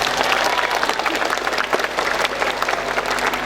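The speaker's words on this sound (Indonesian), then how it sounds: "tepuk tangan" A school audience at a Monday flag ceremony with the regional education head claps together in sustained, dense applause that holds steady throughout, with a faint voice briefly present.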